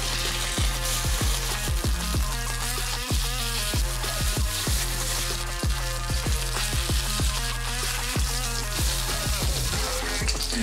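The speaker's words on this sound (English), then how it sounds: "Because I will not use salt when grilling pork." Pork belly grilling without salt at a Korean BBQ, a continuous loud crackling sizzle with frequent sharp pops and spits of fat, close up with no talking.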